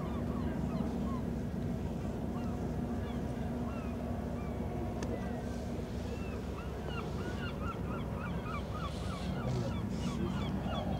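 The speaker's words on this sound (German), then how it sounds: "Hörst du das? Die dicken, fetten Rostock-Möwen" Seagulls call repeatedly at the port in Rostock, their squawks scattered over a steady background of harbour and water noise, with a cruise ship nearby.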